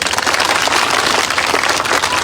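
A crowd at a political rally in Sidhi applauds, dense continuous clapping that stays loud and even for a couple of seconds with no break.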